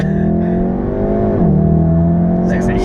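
A Golf R or i30N Performance hot hatch launching with traction control off, its engine revving hard and steady at close range with a drop and recovery in pitch as the wheels spin.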